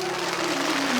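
An audience claps at a Hindu religious discourse, a brief, dense burst of applause from a crowd, heard fairly loud with no speech over it.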